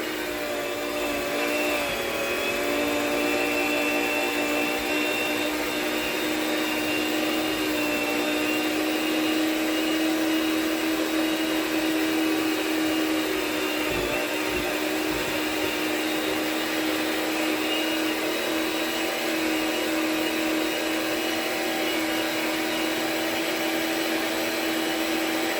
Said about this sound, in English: Now we need to turn the mixer back on.